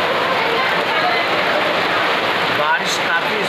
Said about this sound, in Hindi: बारिश आ रही है काफ़ी स्पीड में।